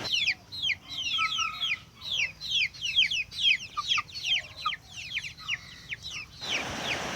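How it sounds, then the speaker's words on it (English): Young chickens near a coop cheep and cluck in quick overlapping bursts, a busy chorus of high chirps lasting several seconds, close and clear with a faint background hum and no talking. "I guess the chicks are wondering what I am up to."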